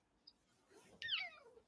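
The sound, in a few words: cat meowing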